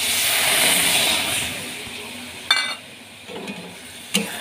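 Water poured into a hot frying mixture for dhokar dalna, a steady hiss that fades, then a few sharp utensil knocks against the pan as stirring begins, with no talking.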